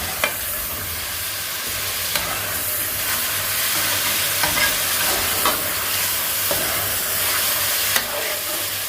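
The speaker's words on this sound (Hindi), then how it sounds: "चिकन को हमें टमाटर अदरक लहसुन और प्याज में ही भूनना है अच्छी तरह।" Chicken sautés with tomato, ginger, garlic and onion for a biryani, producing a constant close sizzle with occasional spoon clicks and scrapes against the pan.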